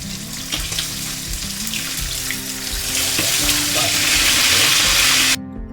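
Fish sizzles and spits steadily in hot oil in a pan, loud and close, with brief stirring or handling noises and a sudden cut at the end.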